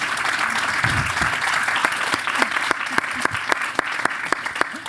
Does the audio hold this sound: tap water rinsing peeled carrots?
no